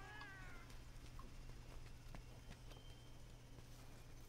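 A cat in the video game Monster Hunter World gives a short high meow near the start, faint over a steady low ambient hum and soft background noises.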